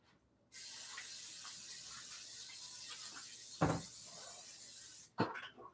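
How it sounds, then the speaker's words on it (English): Cooking spray hisses onto a pan for a few seconds while beef stroganoff is being made, a steady close spray with a brief knock partway through and a short second burst at the end. "Let me spray my pan, get that ready."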